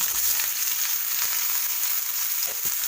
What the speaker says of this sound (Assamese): ইয়াতে মই ফুলকবি আৰু আলুখিনি ভাজি লওঁ